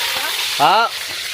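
Pork chops fry in a pan at a rural farm kitchen, giving a steady, close sizzling hiss throughout, with a brief voice-like tonal sound rising over it partway through.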